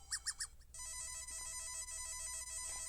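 A phone ringtone heard alongside emergency alert sounds: three short chime bursts, then a sustained, steady multi-tone ringing pattern that plays loudly and continuously to the end.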